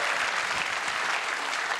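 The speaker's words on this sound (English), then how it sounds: "Give the ladies a big round of applause." Game show studio audience applauding steadily throughout, a dense, even wash of clapping close up with no voices over it.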